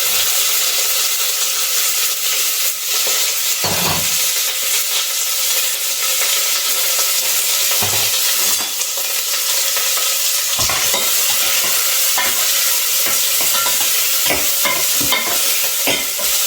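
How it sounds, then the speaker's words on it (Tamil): A tempering of cumin, urad dal, curry leaves, green chillies and onion frying in a pan, loud continuous sizzling with repeated scraping stirs against the metal, close up and steady throughout with no voices. "சீரகம் உளுத்தம்பருப்பு ஆட் பண்ணியிருக்கேன் பாருங்கள். அதோட கருவேப்பிலை, பச்சை மிளகா, அப்புறம் வெங்காயம்."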